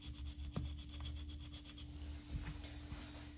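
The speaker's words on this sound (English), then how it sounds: "I'm just going to scrub the outside of our cylinder" Outside of a Smith & Wesson Model 10-7 revolver cylinder scrubbed with a cleaning brush, a quiet, close, steady brushing rub with a few faint knocks over a low hum.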